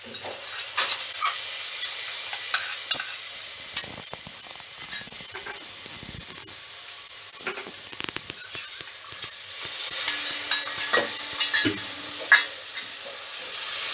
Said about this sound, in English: To this, now I am going to add the dry spices mix.